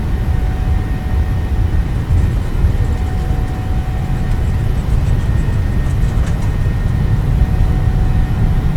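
Boeing 737-800 engines at takeoff thrust in a flight simulator game roar as a loud, steady broadband rush with deep low rumble and a faint whine, continuous throughout with no talk.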